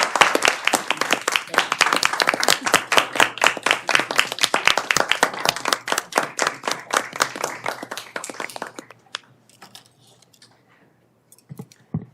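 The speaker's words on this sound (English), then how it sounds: "So one more round of applause." Round of applause from a board meeting audience, dense clapping filling most of the stretch before fading out to near silence with a few stray claps at the end.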